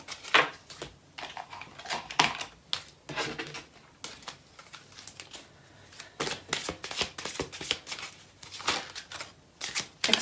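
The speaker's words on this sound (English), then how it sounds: "Let's pull some Romance Angels cards." Romance Angels oracle cards are shuffled and pulled from the deck in quick, crisp riffling and flicking bursts, close and fairly soft, with short pauses between handfuls and no talking.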